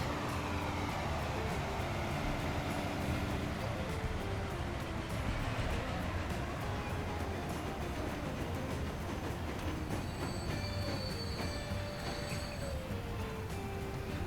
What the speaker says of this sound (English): Let's just enjoy one more pass of the Flying Scotsman.